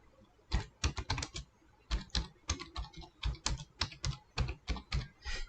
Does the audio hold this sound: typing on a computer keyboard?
yes